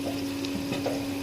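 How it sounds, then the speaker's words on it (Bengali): Onions frying in a pan for a mutton kasha: a steady, soft sizzling hiss with a low constant hum beneath, no voices. "দেখুন পেঁয়াজটা কিভাবে ভাজা হচ্ছে।"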